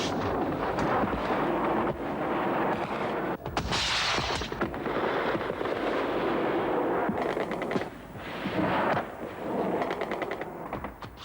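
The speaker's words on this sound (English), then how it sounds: "Increasingly heavy air attacks softened up the guerrillas' positions." Heavy air attacks strike guerrilla positions during the Soviet invasion of Afghanistan, with dense, continuous rumbling explosions and rapid gunfire bursts, loud and unbroken throughout.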